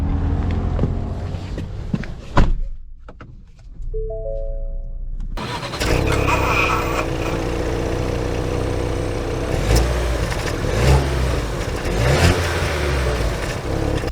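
A 2022 Ford Bronco Sport Badlands engine cranks and catches after a short pause, then settles into a loud, steady running drone with rising revs as it drives off, all close and without talking.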